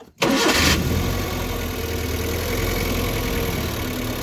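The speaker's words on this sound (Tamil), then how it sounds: "இப்போ வண்டி வந்து நியூட்ரல் பார்த்து ஸ்டார்ட் பண்ண வேண்டி தான்" A Maruti Eeco van engine cranks briefly in neutral and catches after a spark plug change, then settles into a steady, loud idle close by.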